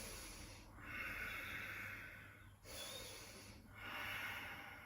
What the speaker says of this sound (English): Exhale here.